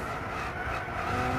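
A race car in Gran Turismo 6 brakes hard into a very short corner, its tires squealing and skidding over a steady engine roar, loud and close with no voices.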